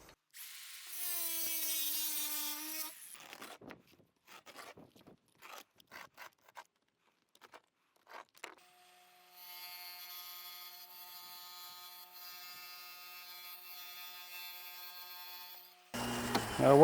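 A wet saw cuts glass tile for a shower window, whining steadily at close range for several seconds after a stretch of scraping and tapping, with a short loud whine at the start.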